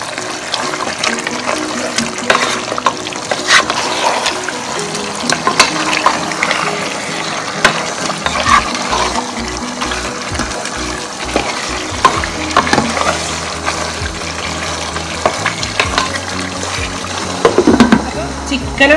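Large chicken pieces cook in a pan for chicken biryani, releasing their juices, with a steady watery bubbling and sizzle, occasional stirring clatter and a low hum throughout.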